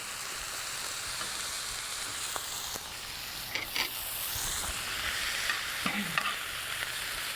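Sirloin steak searing in a pan with miso butter, a loud continuous sizzle and spatter with occasional clinks of a utensil, no one speaking.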